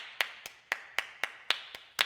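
Liesa clapping her hands alone in a rhythmic beat, eight sharp close claps spaced evenly about a quarter second apart.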